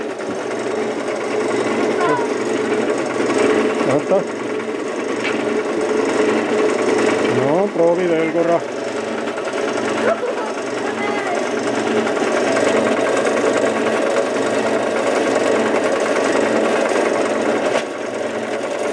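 A hand-cranked drill bores a hole with a steady, continuous mechanical whirr that runs nearly the whole time, with a brief hitch partway, while people talk over it.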